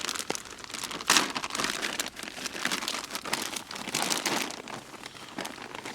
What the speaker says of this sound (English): get it into the foil packets